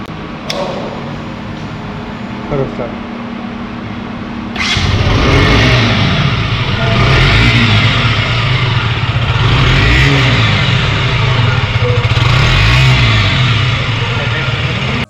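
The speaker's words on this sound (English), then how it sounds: "Take a listen to its engine sound first." A small 125cc KTM Duke motorcycle engine idles, then is revved hard and held at a loud, steady roar with rises and dips in pitch, close by.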